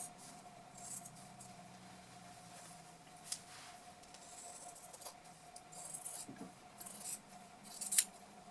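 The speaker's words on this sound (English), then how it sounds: "So cut your trouser legs apart." Scissors cutting apart denim jeans trouser legs, a quiet series of close, irregular crunching snips through heavy fabric, with occasional small clicks.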